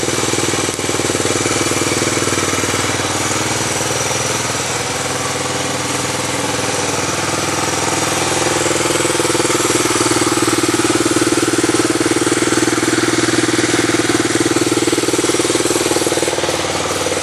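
A 1985 Honda Fourtrax 250 ATV idles steadily up close, its loud, even engine drone and rattling vibration running nonstop with no one talking.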